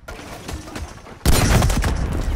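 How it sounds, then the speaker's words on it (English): A grenade explodes in a first-person shooter video game: a sudden, loud, close blast cuts through quieter game ambience and sustains a rumbling roar to the end. "Grenade out!"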